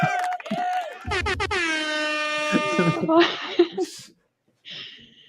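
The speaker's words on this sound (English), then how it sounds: "Oh, the air horns." A loud, long air horn blast sounds over crowd noise and talking, followed by another short horn burst near the end.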